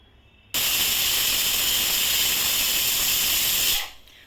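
A pressure cooker whistle releases a loud, steady rush of steam hissing for several seconds, starting abruptly and cutting off near the end, with no talking.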